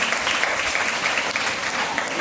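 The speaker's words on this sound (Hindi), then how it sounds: "ताली बजाइए।" Congregation at a Sunday church sermon clapping together, a dense, even wash of applause filling the room for a couple of seconds.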